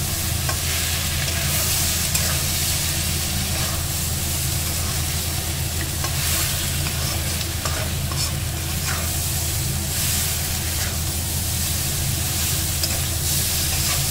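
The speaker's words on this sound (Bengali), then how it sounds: "এইবার মা ভালো করে নেড়ে ছেড়ে কষিয়ে নেবে মশলার সাথে, যাতে ভালো করে মশলাটা মেল্ট হয়ে যায়।" Fried broccoli is stirred in spices in a hot pan, with a loud, steady sizzle and frequent scraping stirs throughout, close up and without talking.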